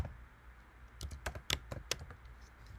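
Keystrokes on a computer keyboard while entering Go code, a short burst of crisp, close taps with a few louder strikes, alone with no talking.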